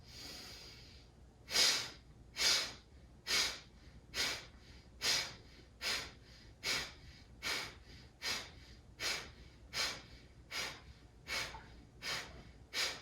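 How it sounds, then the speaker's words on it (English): Yogic breath of fire during a kapha-balancing yoga session: a steady run of about fourteen sharp, forceful nasal exhalations, close and loud, pulsing evenly about twice a second with quiet gaps between. "Inhale to prepare for breath of fire."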